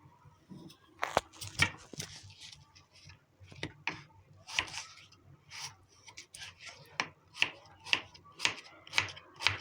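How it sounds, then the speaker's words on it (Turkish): Potatoes are chopped with a knife for a Turkish güveç stew, with crisp close cuts that start scattered and then fall into a quick, even rhythm, along with a little quiet handling noise. "Sonra patateslerini doğrayacağım."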